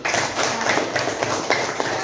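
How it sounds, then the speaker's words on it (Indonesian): A school class claps hands together in a classroom, a dense, even patter of many hands filling the short moment at close range. "sekarang boleh tepuk tangan untuk keyakinan kelas"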